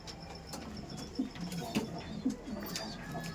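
Kalanka pigeons cooing in a home loft, a few soft, low coos spaced about half a second apart over faint background noise.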